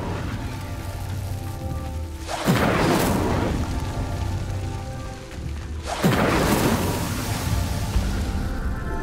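Two roaring whooshes of flame, about four seconds apart, as the Incendio fire spell lights pyres in the Hogwarts Legacy video game, each burst swelling over a steady background of music.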